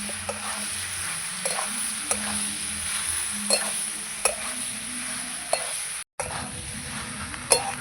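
Potato, soybean and spices sautéed together in a pan, a constant close sizzle with regular scraping and clinking strokes of a spatula stirring the mix, briefly cut off near the end, and no voices.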